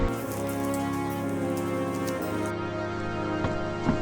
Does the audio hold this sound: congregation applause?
no